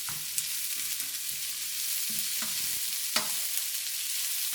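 Onions fry for bulgogi in a pan with a steady hissing sizzle, close by, while a utensil stirs them with several light scrapes and taps, and nobody speaks.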